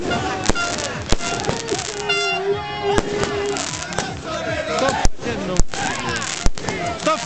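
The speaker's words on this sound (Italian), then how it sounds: "Ancora fuochi d'artificio." Fireworks burst during a street celebration of Juventus's 30th league title in Scandale, with sharp loud bangs repeating every second or so over a continuous crackle and a noisy, cheering crowd.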